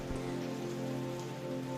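Heavy rain pours down in a Hindi cartoon storm, a dense, steady roar of drops hitting surfaces with a sustained tonal background under it and no voices.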